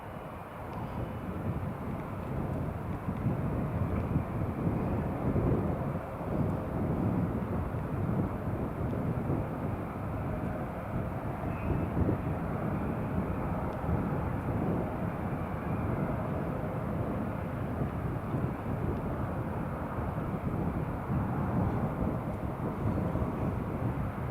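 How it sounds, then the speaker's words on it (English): A KLM Embraer passenger jet roars steadily at Newcastle International Airport, a broad sustained engine rumble that holds fairly loud throughout with no talk over it. "that KLM Embraer you can see there, folks"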